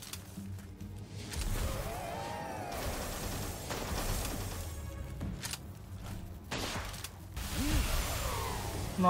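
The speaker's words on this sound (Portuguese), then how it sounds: "Vamos ver se o fuzil de tiro é bom" Rifle fire in the Palworld video game: a few sharp, distant-sounding shots in the second half of a fairly quiet stretch of in-game whooshes and movement noise.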